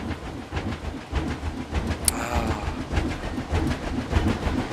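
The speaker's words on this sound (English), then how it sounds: "The train going over the bridge." A roller coaster train in the video game Planet Coaster rumbles and clatters steadily as it crosses a bridge, with a faint bright squeal partway through and no voices.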